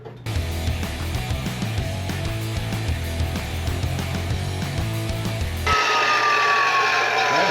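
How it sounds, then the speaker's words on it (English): A chop saw cuts through two clamped pieces of metal at once, a loud, steady motor whine with grinding that gives way to a high, falling spin-down as the blade slows. "let's see what we can do with the chop saw here"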